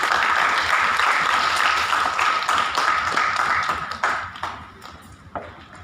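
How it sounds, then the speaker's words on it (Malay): Students in a classroom applaud a classmate after a group exercise, a close, lively burst of clapping that is loud at first and then thins out into scattered claps as it dies down. "Bagi tepukan kat kawan awak."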